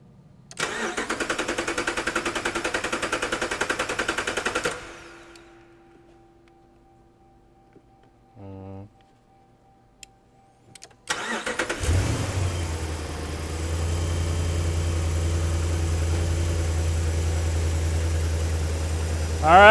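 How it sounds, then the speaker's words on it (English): A 2012 Dodge RAM 1500 pickup with the 5.7L engine, with a no-start fault, cranks briefly, catches and settles into a steady, loud idle after a quiet pause, with no talk. "So while I feed power, you go crank the vehicle and it should start."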